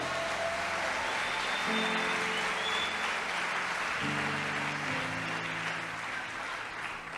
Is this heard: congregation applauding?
yes